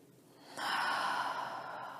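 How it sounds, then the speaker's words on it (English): A single deep breath during a yoga session, a long airy inhale or exhale that swells up and holds steady near the listener, with no talking. "Take a deep breath."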